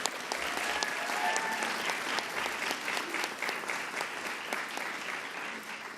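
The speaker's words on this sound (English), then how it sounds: "Let's give our governor another round of applause" Steady, dense applause from an audience for the governor at a Long Island affordability event, loud and continuous throughout with no talking over it.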